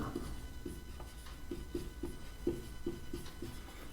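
A hand-written answer goes down on paper in a steady run of soft, scratchy pen strokes, each stroke short and regularly spaced, close and fairly quiet with no talking.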